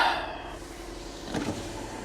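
Electric window motor whirring briefly on a Buick Cascada that sat parked for a year, a steady close hum that rises slightly toward the end of the short run.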